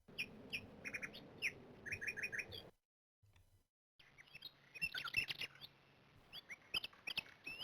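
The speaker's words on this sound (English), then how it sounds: "And there's a woodpecker." Chirping, twittering bird calls in repeated short phrases, then a brief silence and a scattered tapping and patter against faint background tones, heard in the old adventure game Call of Cthulhu: Shadow of the Comet.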